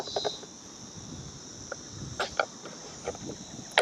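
A cricket chirps outdoors at a rainy barbecue, sharp high trills repeating in short irregular bursts over soft background noise, close and fairly clear with no one talking.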